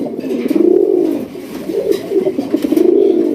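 Raj Golla pigeons at a Bangladeshi pigeon farm coo continuously in a steady, rolling rhythm, several close birds overlapping in repeated throaty phrases with no talking.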